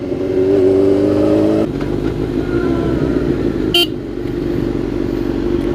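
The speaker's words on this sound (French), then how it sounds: "J'ai klaxonné sans faire exprès" A Suzuki GSX-R motorcycle engine idles and rumbles nearby, then a short, sharp horn honk sounds once over the steady engine noise.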